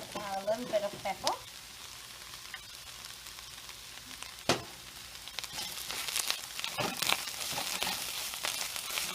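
Spinach for spanakopita cooks in a pan with a steady, moderate sizzle. Occasional sharp scrapes and stirring clacks cut through it.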